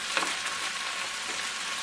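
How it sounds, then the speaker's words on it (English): Onions frying in a hot pan on high heat, a steady dense sizzle running throughout with one small clink early on, close and alone. "I go for a nice caramelization on the onions."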